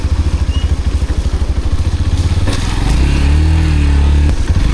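A motorcycle engine, loud and close, thumps with a rapid pulsing beat and then revs into a steadier higher drone on a rocky off-road mountain track between Pokhara and Mustang in Nepal.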